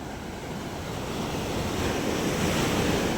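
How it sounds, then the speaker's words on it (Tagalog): Rough ocean waves churn near a seaside fish terminal in Tanza, Cavite, a constant broadband roar of surf with wind buffeting the microphone, swelling slightly louder toward the end. "lalaki ng alon"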